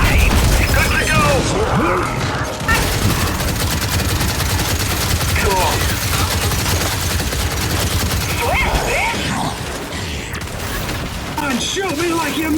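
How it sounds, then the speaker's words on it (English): Rapid, sustained automatic gunfire and bursts in Gears 5 Horde mode, loud and dense throughout, with game character voices shouting over the shooting. "Come on, shoot me like you mean it!"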